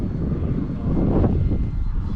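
An E-flite Turbo Timber RC plane in flight, a steady loud buzzing electric propeller drone mixed with heavy wind rush on the microphone.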